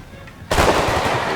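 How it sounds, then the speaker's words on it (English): Musket volley from line infantry in the strategy game Empire Total War, a sudden loud burst of overlapping gunfire erupting after a quiet lull and continuing as a dense, sustained roar of battle. "These guys did get off some bullets"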